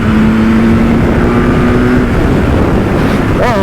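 A BMW S1000R naked motorcycle engine drones loudly while riding, with heavy wind buffeting the microphone and a brief rising rev near the end.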